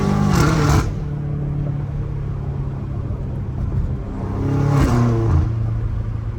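Straight-piped BMW M5 Competition engine revving in two loud, deep bursts with a low droning idle rumble held between them, close by.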